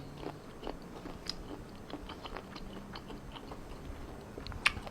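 Close, quiet crunchy chewing of food, irregular crisp bites and mouth noises spread across several seconds, with one sharper crunch near the end and no talking.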